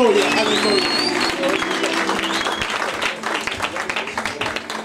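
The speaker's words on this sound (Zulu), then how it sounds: "Sishaya izandla, sishaya ihlombe, sidilizele, sishaya amakhwelo." A church congregation claps and cheers in worship, with dense, sustained applause and raised voices that fade into more scattered claps toward the end.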